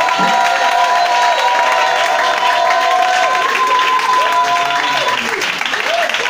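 A church congregation applauding and cheering during a time of worship acclamation, a loud, sustained crowd roar with clapping and sustained tonal sound, steady throughout.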